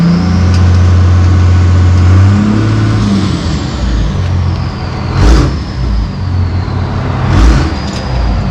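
A straight-piped Cummins diesel truck engine drones loud and close at a steady idle, then revs twice in short, rising pulls, with no talking.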